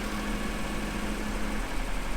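A car engine running close to the intake manifold gives a steady, loud, even hum with a faint buzzy edge throughout and no talking.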